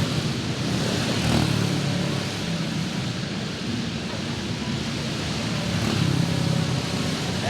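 Dirt track race cars roar through a hot lap session at Sand Hills Global Event Center during the Turkey Chase, engines droning in a dense, steady wall of noise from a distance.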